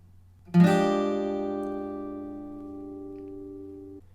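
One guitar chord is strummed once and left to ring, its bright notes sustaining clearly and slowly fading over a few seconds.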